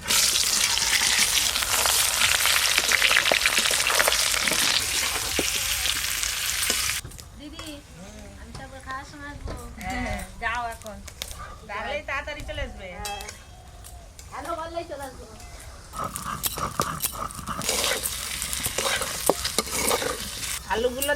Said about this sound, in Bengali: তেলের উপরে খুব ভালো করে নেড়ে নিয়েছি